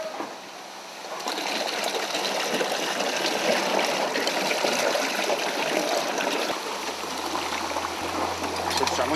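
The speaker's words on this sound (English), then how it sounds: "The cloth bags of mash are hung inside an empty tank and left to drip on their own." Daiginjo sake drips from hung cloth bags of mash into an empty tank, heard as a continuous fine trickle and patter of liquid, fairly close and steady, with a low hum entering near the end.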